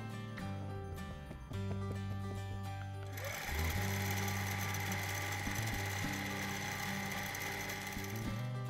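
A Baby Lock Jewel longarm quilting machine stitches steadily in regulated mode, giving a continuous close mechanical whir and rapid needle clatter that grows louder partway through, with no talking.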